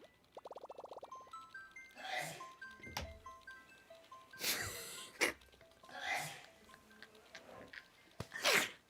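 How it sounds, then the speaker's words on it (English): A man sneezes several times in sharp, crisp bursts spread over a few seconds, each one loud and close, with quiet gaps and a little background murmur between them. "Those are some crisp sneezes."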